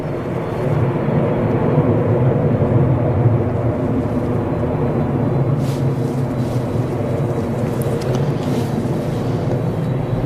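An airliner departs Manchester Airport bound for Orlando, a steady low engine rumble holding loud and constant for the whole stretch with no voices.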